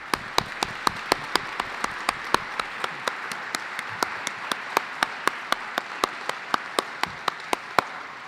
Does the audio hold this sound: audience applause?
yes